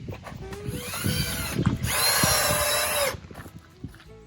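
A power drill drives screws into the wood of a chicken coop, whining in two bursts, the second longer and louder, with knocks and handling noises around them and no talk.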